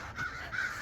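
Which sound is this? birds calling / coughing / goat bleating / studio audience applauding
birds calling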